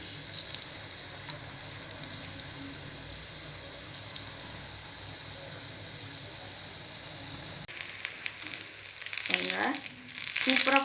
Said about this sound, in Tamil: சூப்பராக ஃப்ரை ஆயிடுச்சு.